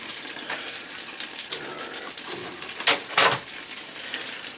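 Water gushing and splashing from an opened pipe during a copper drain stack replacement, a hissing flow with a few louder bursts near the end, close by, with no voices.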